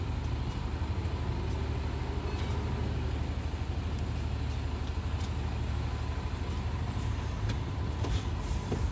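Low rumbling idle of a truck pulled up at a yard gate in Liverpool, heard from inside a vehicle, steady and moderately close with faint clicks and no speech.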